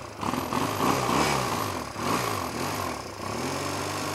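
A motorcycle engine idles after an oil change, a steady, even, moderately loud rumble close by, no talking.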